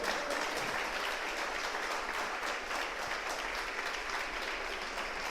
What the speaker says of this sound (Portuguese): Ou você pode aplaudir o nome do Eterno.